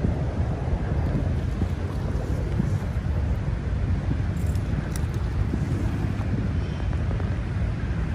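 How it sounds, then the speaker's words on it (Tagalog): Strong gusting wind along the Manila Bay dolomite beach shoreline, a continuous loud roar buffeting the microphone with no break across the whole stretch. "ang lakas ng hangin"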